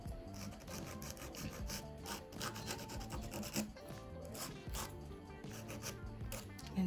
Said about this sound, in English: you keep filing until it rounds out